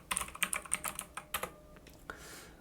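Keys tapped on a Mac computer keyboard in a quick run of crisp clicks, a brief pause, then a few sparser presses, close and clear with no talking.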